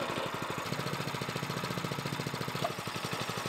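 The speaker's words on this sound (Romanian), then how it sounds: "tragem ferm până la capăt de sfoara demarorului până la pornirea motorului" A Progarden Campo 703 petrol tiller running just after being started, its engine chugging in a fast, even rhythmic thump with a steady mechanical rattle, close and loud with no talk.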